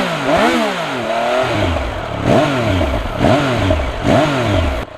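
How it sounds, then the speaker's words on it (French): A Triumph Speed Triple 1200 RR three-cylinder engine with stock exhaust and large catalytic converter is revved four times in quick succession, each rise and fall whining through the exhaust, loud and close, with no talking. "un très très beau sifflement du 3 cylindres et de l'échappement"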